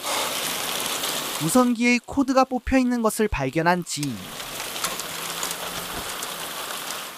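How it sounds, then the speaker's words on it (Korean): Steady rain falls throughout, a constant hiss that carries on under a narrator's voice in the middle and stays alone at the start and end. "자, 들리죠? 이 빗소리요."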